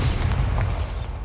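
A Bombarda blasting spell detonates in the Hogwarts Legacy video game, giving a loud, rumbling explosion with a heavy low-end boom that sustains for over a second without fading much.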